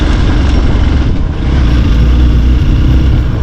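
A Hero Xpulse motorcycle engine labours steadily while climbing an off-road hill, loud and close with a rough, continuous drone and slight rumble throughout.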